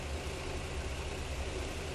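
A Ford FE big block V8 with tri-power carburetion idles with a deep, steady, even rumble and no revving, close by and fairly quiet.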